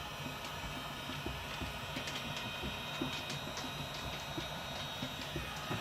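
A heat gun blows hot air onto custom plier handles, giving a steady, close, broadband whooshing hiss with faint clicks scattered through it.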